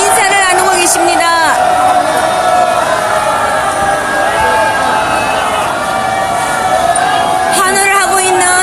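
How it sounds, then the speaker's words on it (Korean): Supporters of Park Geun-hye cheer, whoop and shout in a dense, continuous roar outside her residence in 2017, with voices and whistles blending into a steady, loud crowd din. "환호를 하고 있는 애국 국민들이십니다."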